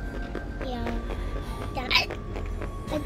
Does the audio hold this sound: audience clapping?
no